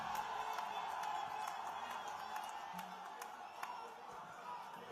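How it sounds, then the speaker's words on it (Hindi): A crowd at a political rally claps and cheers to welcome the chief minister, a faint, distant wash of applause with scattered whoops and no speech. "एक बार जोरदार तालियों से"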